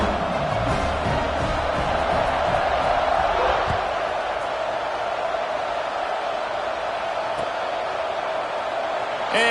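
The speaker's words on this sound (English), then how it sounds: "this crowd is buzzing after that last score" A football stadium crowd at Tennessee at Oregon keeps up a broad, steady roar of buzzing noise after a score, swelling slightly early on and then holding level, with a commentator's voice talking over it.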